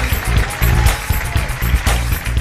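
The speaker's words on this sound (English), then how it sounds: "Come on, clap your hands." Church congregation clapping along during a praise service, a steady rhythmic beat of many hands blended with music and voices, loud and close.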